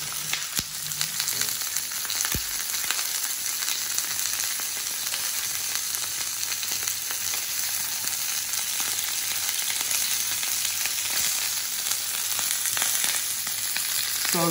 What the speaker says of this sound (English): So we just got a little bit of oil in our pan, and we want to colour it on all sides.